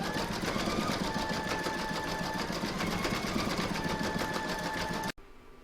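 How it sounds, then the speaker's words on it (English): Embroidery machine stitching a decorative motif across the cupule of a reversible acorn placemat in a single hooping, a steady, close, fast mechanical whirring rhythm that runs continuously for about five seconds before stopping abruptly. "I'm now going to pop this back in my machine and stitch round number 6"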